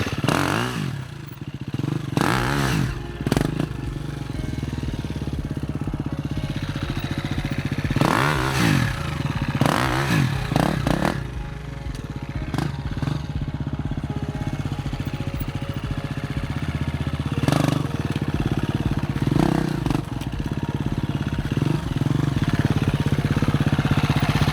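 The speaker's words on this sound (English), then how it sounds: "there's not many revs, very low RPM to gain traction" A motorcycle engine putters at low revs during a slow wheelie, steady and close, with occasional clattering bursts and brief throttle blips over a loud continuous drone.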